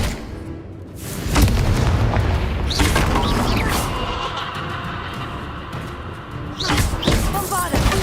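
Bombarda explosion spell in Hogwarts Legacy, a series of heavy booming blasts with crackling debris, a big hit near the start and another near the end, over game music and effects.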